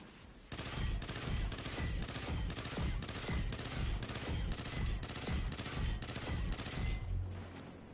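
A weapon in the Destiny video game fires in a rapid full-auto burst, about a dozen loud, evenly spaced shots over several seconds, then stops.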